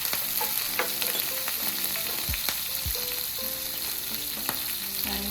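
Green chilies sizzle and crackle in hot oil with chana dal, a steady dense frying hiss broken by occasional stirring scrapes and soft clinks, close and alone with no talk.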